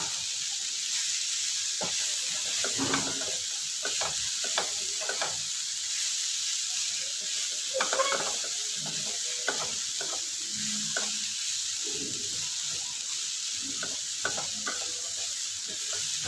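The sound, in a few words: bitter gourd frying with spices in pan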